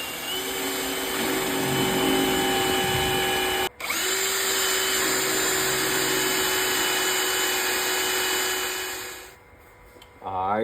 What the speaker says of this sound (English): So I go ahead and make a small pilot hole first.